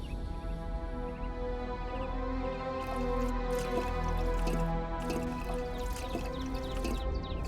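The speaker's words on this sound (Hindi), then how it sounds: "आ गया पानी। अरे वाह।" Water runs and drips in a steady, close wash of small splashes and trickles over a low sustained tonal drone, with no voices.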